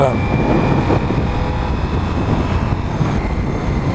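A Ducati Diavel V4 motorcycle's engine drones steadily while riding, a loud continuous rumble mixed with wind, and a rider's voice talks over it.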